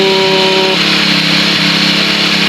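A repaired 4-stroke grass cutter engine runs loud and close, a steady buzzing drone with a brief higher tone at the start, continuous throughout with no talk.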